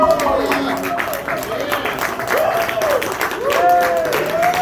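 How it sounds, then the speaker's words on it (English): Audience applause from a played recording of a live performance, a continuous wash of clapping with scattered shouts and voices mixed in, steady and moderately loud throughout. "Hear all that applause?"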